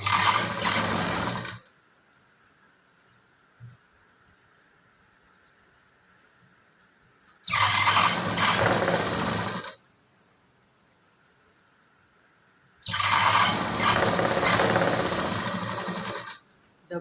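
A sewing machine runs in three loud bursts of steady stitching, each a couple of seconds long, with quiet pauses between them while a tucked blouse is sewn with a lined fabric seam.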